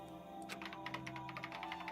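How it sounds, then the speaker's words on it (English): Rapid, even keyboard typing in the video game Danganronpa, a quick run of soft clicks close by against a faint steady hum. "The only sound was the flat, precise clicking of keys as Kyoko typed"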